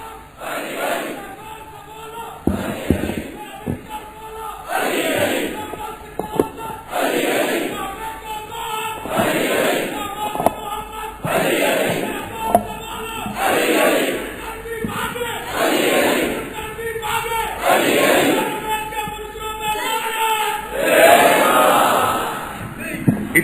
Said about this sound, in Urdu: اتنی ہی بلند صلوات بھیجے نا محمد و آل محمد پر